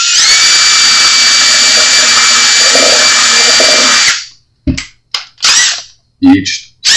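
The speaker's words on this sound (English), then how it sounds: "Each time progressively going to the next size drill bit." A power drill bores into a 10-string charango for a pickup install, whining loudly and steadily for about four seconds before short bursts of the motor starting and stopping follow.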